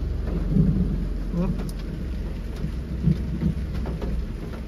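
Heavy rain pours steadily during a thunderstorm, leaking into the cabin of a Nissan B14 sedan, with low rumbling thunder and scattered drips close by throughout.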